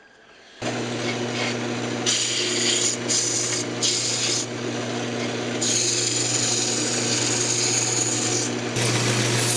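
A wooden speaker box spins on a woodturning lathe while being sanded: a steady motor hum under rough, hissing rasps of sandpaper that swell and ease in bursts.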